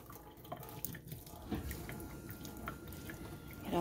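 Water running and dripping as boiled noodles are shaken in a strainer over a kitchen sink for a tuna noodle casserole, a steady close splashing with a few louder pours and no talk.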